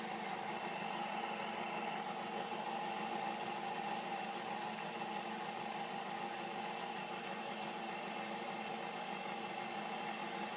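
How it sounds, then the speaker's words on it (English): A KitchenAid stand mixer on its lowest speed kneading vegan bread dough, giving a constant, even motor whir with a steady hum that runs unchanged from start to finish, no voices. "I have a KitchenAid mixer, so this helps me a lot more"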